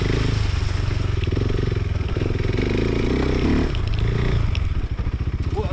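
Motorcycle engine running loudly and steadily up close as the rider slides around off-road, with a rough throbbing drone, some rattling and scraping, no clear speech.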